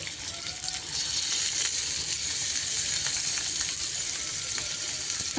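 Spicy fish fries in a pan with onions, green chillies, coriander and curry leaves, giving a steady, close hiss of sizzling oil that stays level throughout, with no talk.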